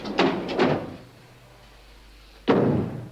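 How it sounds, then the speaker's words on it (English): A door in a TV prison drama is shut with three solid thuds: two quick knocks or bangs close together, a quiet pause, then a louder slam near the end. "Ah, Karen, shut the door"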